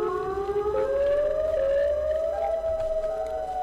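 A loud, drawn-out siren wail from the Siren Head monster in a horror video game, slowly rising in pitch with a steady, eerie tone, heard alone over a low rumble.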